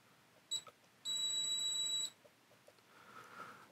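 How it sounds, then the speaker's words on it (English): Firefly X Lite V2 action camera beeping on power-up: a short high beep followed by a longer sustained beep lasting about a second, close and clear over quiet background. "So you're going to get this constant beeping every few seconds, like that."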